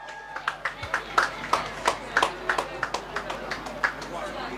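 Sparse, uneven hand claps from a small audience honouring St. Joseph's Convent, St. George's students at an anti-corruption day rally, a dozen or so distinct slaps spread across a few seconds.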